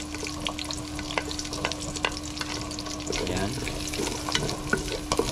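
Onion and garlic sizzle steadily in a hot pan, a constant close frying hiss with occasional stirring scrapes and a steady hum underneath, while a person speaks briefly.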